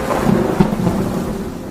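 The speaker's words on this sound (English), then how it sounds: "That night, the wind howled and rain poured down." A thunderstorm sound effect rumbles with pouring rain and howling wind, a loud, continuous low roar with a brief swell of thunder and no speech.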